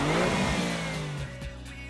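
Alfa Romeo Giulia GTA engine revving hard close by, a loud rising snarl that drops off into a lower throbbing idle, with no voices.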